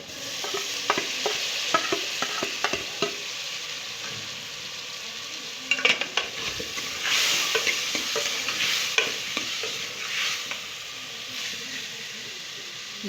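Tomatoes go into frying masala for a rohu fish curry and sizzle steadily in the pan, with a spoon scraping and stirring in irregular strokes over a constant hiss.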